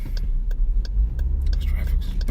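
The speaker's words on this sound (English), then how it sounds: "this traffic is bad today, man" Low road and engine rumble heard from inside a car stuck in bad traffic, a steady drone with a few faint clicks and rustles and no talking.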